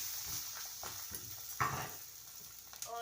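Green onion paratha cooking in butter in a pan over a low flame, giving a steady soft sizzle with a few light scrapes and bumps from handling.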